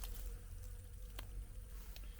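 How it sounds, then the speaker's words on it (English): Bees buzz faintly among spring blossoms on garden fruit trees after a cold night, a thin, continuous drone that stays steady under outdoor background noise for a couple of seconds. "We got some bees hitting them."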